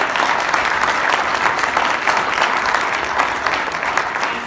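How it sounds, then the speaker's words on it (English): Audience applause for the finalists of the 2016 William Campbell Trophy at a college football awards event, steady dense clapping from a large crowd that holds at an even level throughout. "A round of applause if you wouldn't mind."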